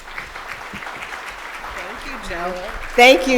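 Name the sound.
audience applause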